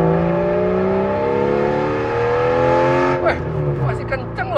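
A 1995-era Porsche 911 sports car with an RWB body kit revs its engine, a loud, close, droning note that climbs steadily in pitch, with a person talking over it toward the end.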